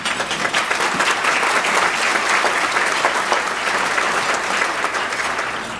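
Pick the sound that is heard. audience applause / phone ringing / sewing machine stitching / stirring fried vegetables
audience applause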